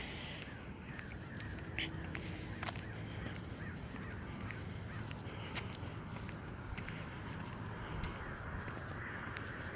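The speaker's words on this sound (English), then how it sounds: "The crows seem to follow me around" Crows caw intermittently at a distance over a faint, steady outdoor background hiss, with a few sharper calls standing out.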